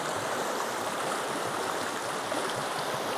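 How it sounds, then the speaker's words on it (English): A small, cold river rushes past at a steady, continuous level, a dense broadband wash of flowing water close by with no speech heard over it. "I gotta go through this little river"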